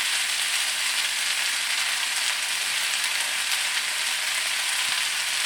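Fresh chard wilting in a hot pan for a warm vegetable summer salad gives a steady, dense sizzle, close and even throughout with no pauses.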